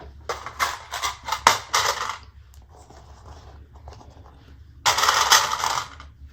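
A sewing machine stitches the top edge of a handbag with a 3/8 inch seam allowance. Two bursts of rapid, close mechanical stitching are separated by a quieter pause with faint handling noise.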